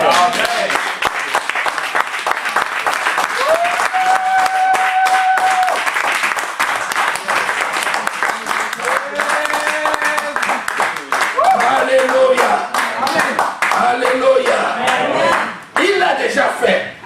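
Church congregation applauding, sustained dense clapping close by with voices calling out and singing over it, fading briefly near the end.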